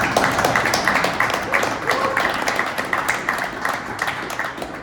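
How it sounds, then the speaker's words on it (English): Audience at a live Citizen watch event with a dive team applauds, a steady patter of many hands clapping at moderate volume for several seconds. "let's give Citizen a quick round of applause for making this"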